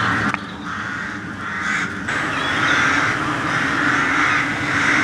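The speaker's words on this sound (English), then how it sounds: "the crows were loud, or ravens," Crows or ravens caw loudly and continuously outdoors, harsh overlapping calls recorded on an old camcorder, with a short knock near the start.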